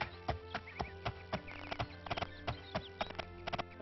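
Horse hooves clip-clop in the video game Daggerfall, a steady trotting rhythm of crisp close hoof strikes, fairly quiet, with a faint whinny-like tone in the background.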